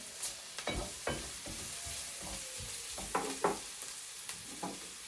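Onions and dried red chillies fry in a pan, giving a soft, fairly quiet sizzle broken by scattered clinks and scrapes of stirring, with a few louder knocks near the start and middle.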